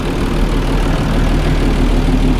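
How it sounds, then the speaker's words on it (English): A 215-horsepower Isuzu boat engine idles with a steady, loud, low rumble and a slight knock, running continuously and close by, with no talk. "It's a 215 Isuzu. 215 horsepower, so it's been a good little engine"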